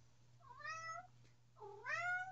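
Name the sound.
cat meowing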